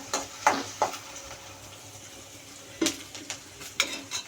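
Onions frying in a pan for pumpkin curry, a soft sizzle broken by several sharp stirring clatters of a spoon against the pan, with quieter stretches in between.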